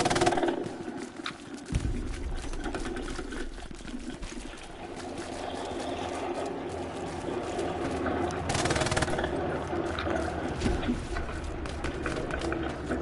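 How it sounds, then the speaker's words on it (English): Video game gunfire crackles in rapid bursts amid a busy firefight, loud and dense with rushing noise, while players talk over it. "I'll shoot some more."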